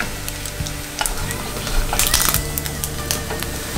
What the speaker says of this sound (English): They're still sizzling.